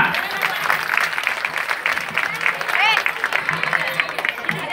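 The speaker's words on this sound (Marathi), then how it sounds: "जोरदार टाळ्या वाजूया" A crowd at a village Anganwadi children's fair in Shindewadi claps loudly and steadily for several seconds, a dense wash of applause with a voice faintly present beneath it.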